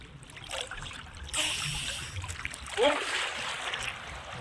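Water splashes around a small wooden dinghy as someone dives in, with a sudden rushing surge and a later burst of splashing, near and fairly loud, while voices talk in the background.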